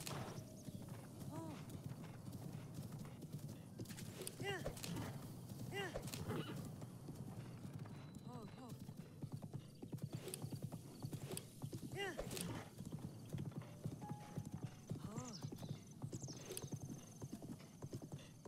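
Horse in Zelda: Breath of the Wild, steady rhythmic clip-clop of hooves at a gallop, with a few whinnies and a person talking over the hoofbeats throughout.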